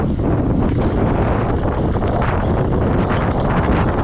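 Strong wind buffeting an outdoor microphone, a loud continuous low roar with gusty rumbling throughout, no voices.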